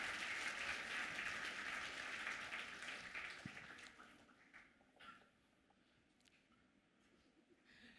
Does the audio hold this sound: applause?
yes